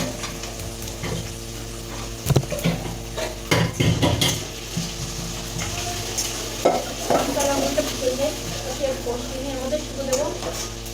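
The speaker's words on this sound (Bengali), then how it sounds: "আলুটা আমি লাল লাল করে ভেজে নেবো" Potatoes frying in oil in a pan in a home kitchen, with steady sizzling under intermittent clatter of a utensil stirring against the pan, some loud scrapes and knocks near the start.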